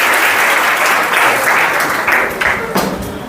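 Audience applause for a volunteer at a career counselling session, a dense, steady wash of many hands clapping that slowly thins out toward the end, with no talk over it.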